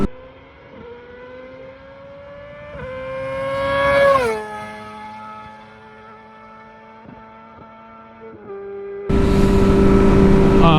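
A Ninja 400 and a Yamaha R6 make a flyby: engine whine climbs to a peak as they pass close, then drops away, and loud broadband wind roar sweeps in near the end.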